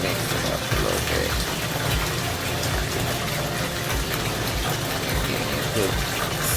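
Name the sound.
water being mixed with detergent for towel stripping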